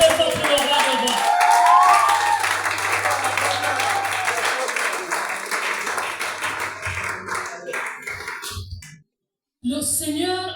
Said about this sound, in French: Est-ce que tu peux acclamer très fort pour le roi de roi?